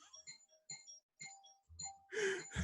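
A house doorbell sounds in short repeated chime tones, followed by a burst of louder indistinct noise near the end.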